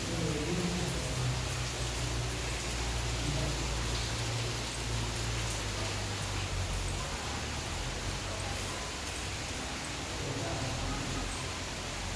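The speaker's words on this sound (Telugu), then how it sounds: "వర్షం పడుతుంది మాకు" Steady rain pours down in a continuous, even hiss, with a low rumble underneath and no voices.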